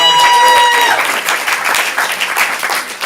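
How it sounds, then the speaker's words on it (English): A stand-up comedy student showcase audience applauds a comedian, with dense, steady clapping right from the start that thins slightly toward the end. "give Stacy a round of applause"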